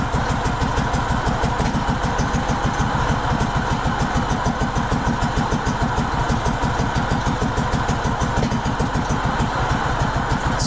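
A Kohler Command engine on a Craftsman GT5000 lawn tractor runs with a spark plug pulled. It chugs with a loud, rapid, even pulsing throb that holds steady throughout, heard close up with no talking.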